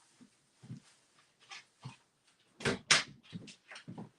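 Puppies whimpering and shuffling about indoors, a scatter of short soft whines and rustling bumps, with a couple of louder squeaks near the middle.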